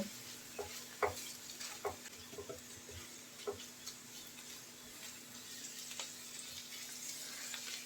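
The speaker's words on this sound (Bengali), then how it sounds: "ডিমটা ঝুড়ি করে এখন পটলের সাথে মিলিয়ে নেব" Scrambled egg stirred together with frying pointed gourd in a pan, giving a soft, steady sizzle broken by scattered light scrapes and taps from the spatula.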